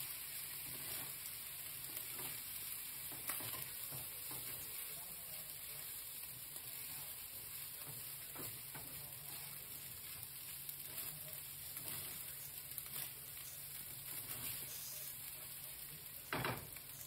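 Shrimp fried rice with soy sauce sizzles steadily in a hot pan as the rice is turned over and over, a continuous close frying hiss with occasional stirring scrapes and a little faint talk.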